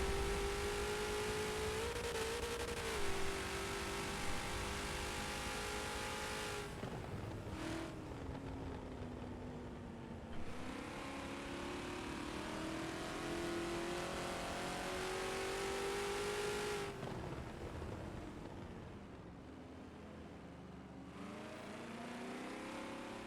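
Race cars lap Sebring International Raceway in the Forza video game, their engines droning loudly and continuously, with pitch rising and falling through shifts and corners and no talk over the sound.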